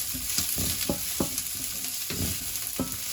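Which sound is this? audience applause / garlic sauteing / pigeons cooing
garlic sauteing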